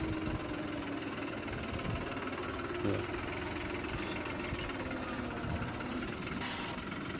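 Tractor engine in reverse gear with four-wheel drive engaged, labouring to back out through mud while felling drumstick-tree wood on a farm; a steady, close, rumbling engine drone runs throughout without talk.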